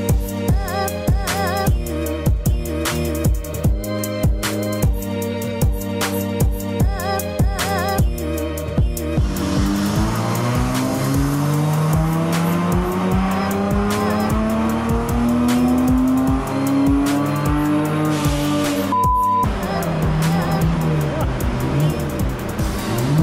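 A car with a Stage 2 ECU tune and cat delete revs on a rolling road dyno. After a rhythmic opening stretch, the engine climbs in one long, loud, steadily rising pull, then drops away.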